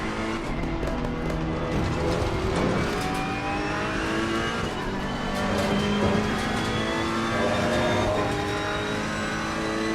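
Race cars circle Imola in the video game Assetto Corsa Competizione, a steady roar of engines with rising revs and passing cars running throughout, loud and continuous with no talk.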